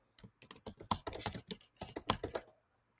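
Typing on a computer keyboard while entering a search into a HubSpot search bar: a quick run of close, crisp key clicks in irregular bursts, alone and fairly loud, stopping after about two and a half seconds.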